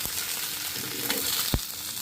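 Steady sizzling of an egg frying in a pan, a continuous crackly hiss with a couple of brief scraping clicks.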